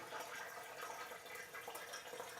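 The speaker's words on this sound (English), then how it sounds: "So you pour it in nice and slowly so it doesn't splash up" Hot water poured slowly into a rubber hot water bottle, a steady continuous watery rush with no break, fairly quiet and close, no voices.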